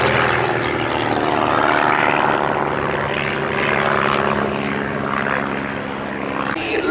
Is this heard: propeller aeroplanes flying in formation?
yes